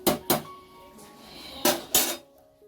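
A metal rice ladle clatters against cooking pots in a home kitchen: four sharp metallic knocks in two pairs, close and alone over quiet room tone.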